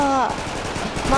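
Rapid gunfire in a Hindi action movie, a steady rattle of shots heard alongside a voice with a falling, shouting tone near the start and end.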